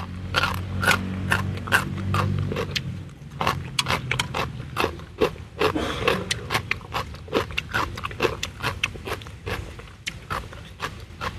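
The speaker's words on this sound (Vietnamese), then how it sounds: "Gà tiếng vua trộn gỏi á," Crunchy Vietnamese chicken salad with soft-boiled egg being chewed up close, a steady series of sharp crisp bites and crunches repeating throughout, with a low hum in the background early on.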